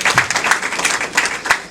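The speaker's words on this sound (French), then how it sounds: "Sous vos applaudissements, s'il vous plaît." Guests clap and applaud at a Congolese wedding ceremony, a dense burst of hand claps with uneven rhythmic surges, close and loud, with some voices mixed in.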